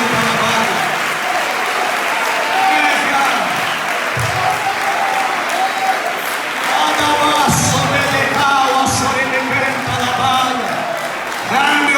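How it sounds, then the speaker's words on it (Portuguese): Church congregation clapping joyfully in steady, dense applause throughout, with voices and a few whoops mixed in over the crowd noise. "as palmas bem alegres"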